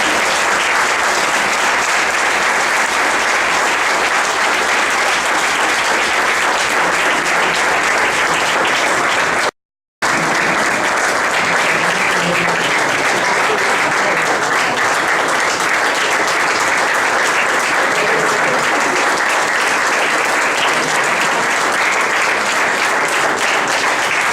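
Lecture audience in Guadalajara giving sustained, loud applause, a thick, continuous roar of clapping broken by one very brief dropout.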